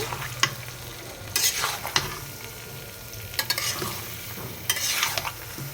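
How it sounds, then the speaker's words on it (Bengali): Olive pickle stirred with a metal spatula in a pan, a low simmering sizzle broken by a few sharp scrapes and clinks of the spatula against the metal at irregular intervals, no voices. "এবার আমি একটা খুন্তির সাহায্যে ভালোভাবে নেড়ে চেড়ে মিশিয়ে দিব"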